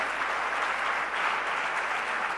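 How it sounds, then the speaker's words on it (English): A crowd claps steadily, a dense, even wash of applause filling the whole moment without pause. "a big round of applause for that precursor"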